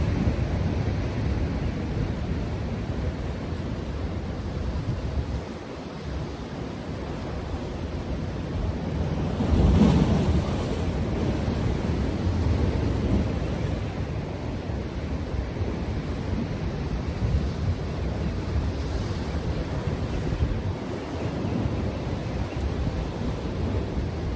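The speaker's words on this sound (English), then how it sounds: "There's some big waves in here, guys." Big waves roll and crash steadily at a bass fishing spot, a dense continuous roar with wind buffeting the microphone and a louder surge partway through, with no voices.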